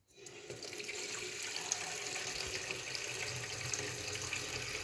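Tap water pours steadily into a pot meant for boiling pork, a continuous rushing splash that starts abruptly and holds at an even level, close and moderately quiet, with no voices.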